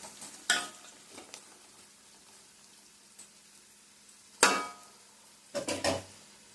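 Salted onions fry in a pan for a fish fry dish, a soft sizzle broken by a few sharp spoon scrapes and clanks against the pan, with a quick run of stirring strokes near the end.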